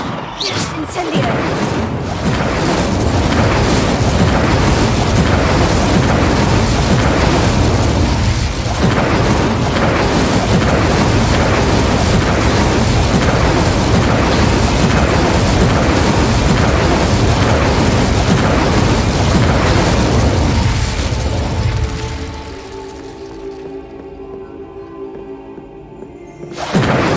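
Loud, dense fire-spell blasts and booms from the Hogwarts Legacy video game rumble almost continuously for about twenty-two seconds, then drop away to quieter game sounds, with a voice shouting a spell at times.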